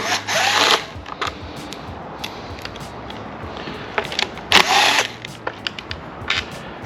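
A power tool works at the flywheel cover bolts on a neglected Yamaha 9.9hp two-stroke outboard. It gives two short bursts of whirring with clicks and small clanks between them, close and fairly loud.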